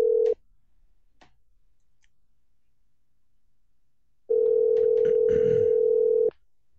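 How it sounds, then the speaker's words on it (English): Telephone call setup: a steady dial tone sounds briefly, then a pause with a few faint ticks, and a second stretch of loud steady tone follows with muffled rumbling underneath. "let's get the phone dialed up here"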